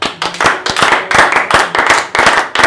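A church congregation claps together to acclaim the Lord, with about six loud, sharp bursts of many hands in a steady rhythm, each burst followed by a short gap and no talking.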